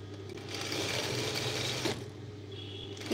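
A sewing machine runs steadily, stitching a skirt seam in one continuous mechanical whir with no pause, close and fairly loud.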